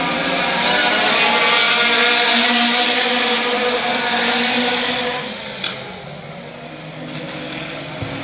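Autocross race cars lapping the Arena Essex oval in 2006, a loud, sustained engine roar that holds steady then eases slightly as the cars pass, with a brief knock partway through.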